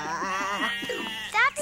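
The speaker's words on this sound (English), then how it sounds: "That's not a bull. That's just Herkimer, one of the sheep" A sheep on a children's TV set bleats loudly and close, its voice wavering and breaking into a series of quavering cries.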